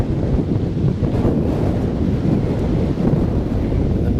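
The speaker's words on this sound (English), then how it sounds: "The wind is pushing me this way." Strong wind buffets steadily across open water during fly fishing, a loud, dense low roar that fills the scene throughout.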